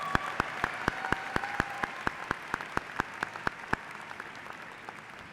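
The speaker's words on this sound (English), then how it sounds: "one more round of applause for all of our student speakers" Audience applause at Suffolk County Community College's 2024 graduation ceremony, heard as crisp, evenly spaced claps in a steady rhythm that gradually thin out and fade, with no voices over them.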